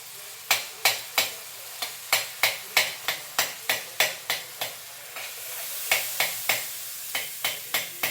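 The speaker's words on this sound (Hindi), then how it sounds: "इसी में मैश कर दूँगी नमक मसाले में" A whole tomato mashed with salt and spices in a pan for Maggi noodles, steady rhythmic spoon strikes against the pan, about three per second, close and crisp over a faint sizzle.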